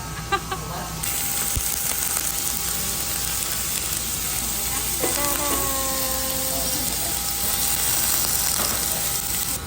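Food sizzles steadily in a pan, a broad continuous hiss held for several seconds, with a brief mechanical whine and faint background voices.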